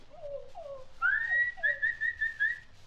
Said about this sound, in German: wenn dein Herrchen pfeift